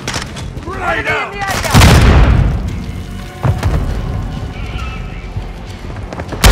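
A grenade goes off in Modern Warfare II gameplay: a loud, close blast at about two seconds with a long rumbling decay, a second sharp burst follows, and a brief voice sounds early on.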